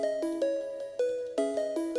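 A short FL Studio melody layer without Grossbeat: clean, bell-like synth notes in a few sustained chords, clear and alone with no voices.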